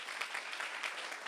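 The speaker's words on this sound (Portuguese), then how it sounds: "Pode aplaudir Jesus." Congregation applauding in a church service, a steady soft wash of many hands clapping at a distance, fairly faint with no clear individual claps standing out.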